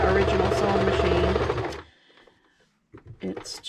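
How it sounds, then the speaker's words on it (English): A domestic sewing machine stitching, its loud, steady mechanical whir running close for almost two seconds before stopping abruptly, followed by brief handling clatter and a few faint knocks. "I love to sew. This is not my original sewing machine."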